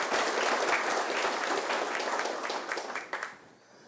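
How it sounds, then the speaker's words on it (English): An audience at a university awards ceremony gives a full round of applause, dense and steady at first, then thinning out and dying away near the end. "so let's give another round of applause."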